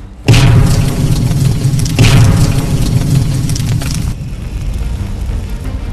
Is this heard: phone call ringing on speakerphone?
no